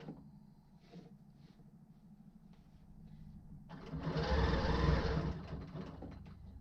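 A sewing machine quilting a king-size quilt hums quietly, then builds to a louder, busier run of stitching toward the end, with a low motor drone underneath.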